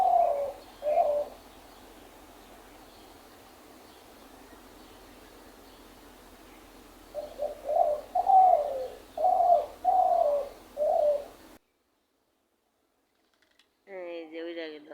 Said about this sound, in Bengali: পাখিদের ডাক শোনাই, শুনেন।